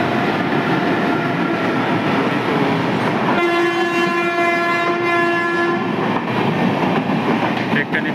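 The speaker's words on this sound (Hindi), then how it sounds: "डेक्कन एक्सप्रेस जा रही है" The Deccan Express passes through Byculla railway station in Mumbai, its loud, constant rumble and rail noise filling the clip while a sustained horn blast sounds in the middle for several seconds.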